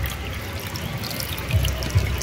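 Water pouring and trickling steadily into a bowl of salted wheat flour for kneading roll dough, a close continuous flow with a couple of soft splashes near the end.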